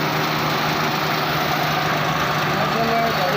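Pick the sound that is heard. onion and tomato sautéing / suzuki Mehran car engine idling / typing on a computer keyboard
suzuki Mehran car engine idling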